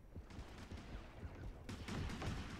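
Gunfire in the underwater game Depth hits a shark with a rapid burst of muffled shots, faint and close, under a low rumbling background.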